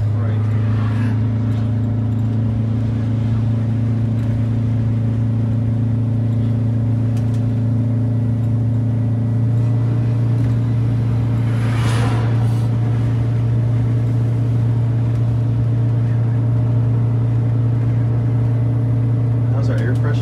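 A Wanderlodge bus at highway speed on a straight road, with a steady, loud low engine and road drone throughout and a short swell near the middle. Voices talk faintly over it.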